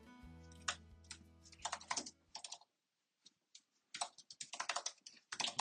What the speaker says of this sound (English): I would type in more